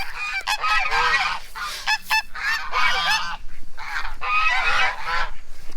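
A flock of geese honking noisily at feeding time, repeated loud overlapping honks close by, continuous throughout with short gaps.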